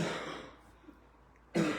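A man who smokes and is out of breath coughs, then quiet, raspy breathing, then a sudden harsh, choking cough close to the listener.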